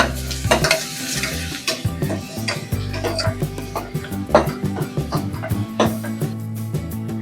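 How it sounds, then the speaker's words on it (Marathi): Ginger, garlic, green chili and coriander paste sautéing with browned onions in a pan for a prawn rice dish, with steady sizzling, repeated spoon scrapes and clinks against the pot, and background music running underneath. "आलं, लसूण, मिरची, कोथिंबीरची जी पेस्ट केली आहे ते टाकूया. आणि परतूया थोडा"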